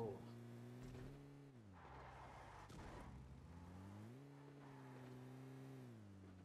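A car engine in the mobile battle-royale game PUBG Mobile drones steadily at a low pitch, rising and falling as the vehicle drives, with players talking over it throughout.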